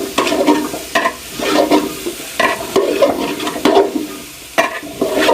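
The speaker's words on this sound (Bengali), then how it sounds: "জাস্ট একটুখানি আমি আলুটাকে একটুখানি ভাজা করব।" Potatoes frying in a large cooking pot, with loud steady sizzling broken by repeated scraping stirs of a utensil at a fairly even rhythm, close up and without voices.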